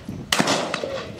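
A shotgun fires at clay pigeons outdoors, one close, loud blast followed by a short, rolling echo and a fainter second report.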